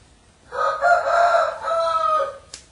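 A rooster crows once in a long, clear call lasting about two seconds, fairly close and alone, followed by a brief faint click.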